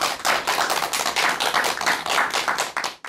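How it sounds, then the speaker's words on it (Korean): A lecture audience bursts into loud, dense applause for a professor emeritus, a continuous wash of many hands clapping close by that trails off near the end. "큰 박수 부탁드립니다"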